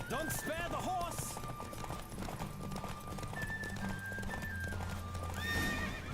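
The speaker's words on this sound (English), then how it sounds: "Don't spare the horse!" Hooves clip-clop quickly in a galloping rhythm while a horse neighs during a horse race in the video game The Witcher 3, with voices and game music playing alongside.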